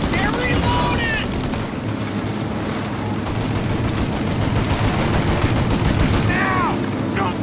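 Dense, continuous gunfire fills a shootout in the 1930s-set game Mafia Definitive Edition, with close, loud overlapping shots rattling throughout. Shouted voices come through briefly over the shooting.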